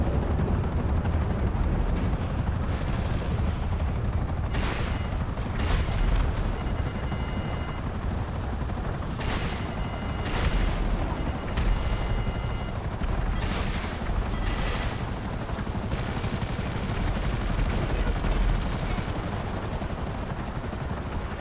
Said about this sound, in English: How did we find ourselves from fighting tanks to fighting just helicopters now?